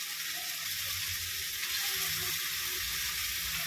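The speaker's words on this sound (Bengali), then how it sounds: "এবার আমি আলুগুলো যে ভেজে রেখেছিলাম আলুগুলো দিয়ে কষাবো" Pre-fried potatoes being sautéed in a pan for a pointed gourd and prawn dish, a steady bright sizzle of hot oil running unbroken, with faint low stirring and scraping beneath.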